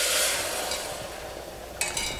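Liquid poured into a pot of hot roux hits the pan with a loud, steady sizzling rush that eases slightly, followed by a couple of brief metallic clinks near the end.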